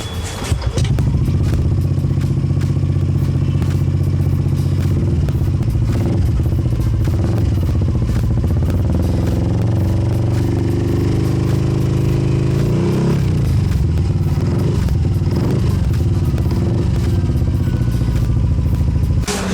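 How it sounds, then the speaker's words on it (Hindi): A Yamaha Aerox 155 scooter fitted with a chrome-finish aftermarket exhaust, heard up close as a loud, continuous engine rumble with rev changes and some clattering throughout. "उसके बाद एक ये एग्जॉस्ट है जो कि क्रोम फिनिश में आ रहा है"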